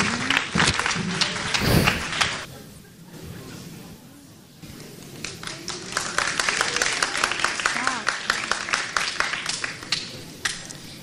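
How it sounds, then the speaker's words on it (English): Children's Sunday school Christmas play audience applauding a class of third and fourth graders, a dense run of close clapping that dips briefly midway before swelling again, with voices mixed in. "So give them a round of applause."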